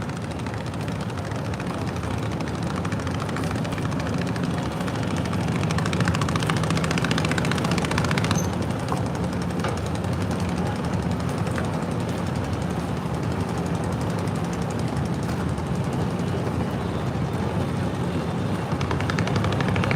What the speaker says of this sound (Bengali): জিঞ্জিরা থেকে একটি ট্রলার আসতেছে দেখতে পাচ্ছেন হাউসফুল যাত্রী নিয়ে আসছে